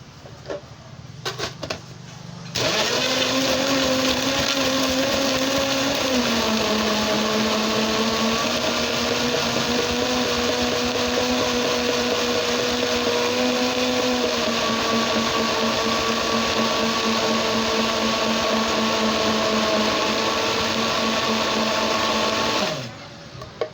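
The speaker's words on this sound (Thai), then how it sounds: "ปรับเครื่องปั่นไปที่เบอร์แรงสุดนะคะ" A blender runs at its highest speed while puréeing a mango yogurt smoothie, a loud steady motor whine starting abruptly, dipping slightly in pitch as the mixture smooths, then cutting off after about twenty seconds.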